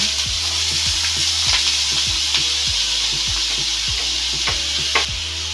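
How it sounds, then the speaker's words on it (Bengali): Cut potatoes frying in hot mustard oil give a loud, continuous close sizzle, with regular scraping stirs and knocks of a spatula against the pan every half second or so, no voices. "তেলের মধ্যে দিয়ে দিতে হবে কেটে রাখা আলুগুলো"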